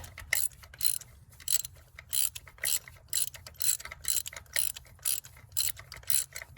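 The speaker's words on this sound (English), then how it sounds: "you're gonna crank them lefty-loosey, counterclockwise to remove them" A ratchet wrench clicks in repeated rapid bursts while it loosens the long coil-pack bolts on a 5.7 Hemi engine, turning counterclockwise, each burst of clicking close and crisp against a low background hum.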